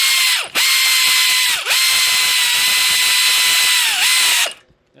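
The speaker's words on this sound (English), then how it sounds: "We're going to use a impact wrench, but we're going to go real easy." Impact wrench tightening bolts during assembly of a tilting wind turbine, run in three loud, steady bursts of whirring and ratcheting, each easing off briefly before the tool stops.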